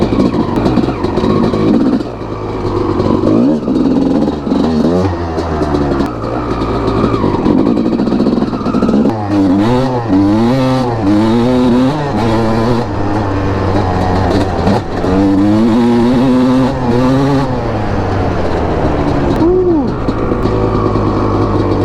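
A CR250R two-stroke dirt bike revs and accelerates hard, its loud engine note climbing and dropping through repeated rising sweeps as it pulls through the gears, close and continuous for the whole stretch.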